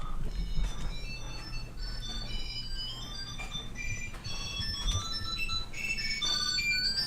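Tile Bluetooth tracker ringing from upstairs, a faint melodic electronic chime playing repeated tones at a distance over a low room rumble.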